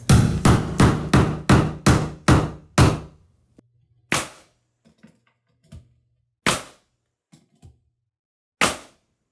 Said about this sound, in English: as you're doing this nailing with your finish nailer